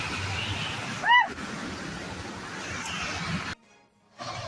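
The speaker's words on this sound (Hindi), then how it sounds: "नान सिटी कैसे सैलाब की चपेट में आ गया।" Floodwater surging through Nan city in Fujian, China, makes a steady, broad rushing roar that fills the scene, with a brief high chirp early on and a short dip into near quiet before the torrent returns.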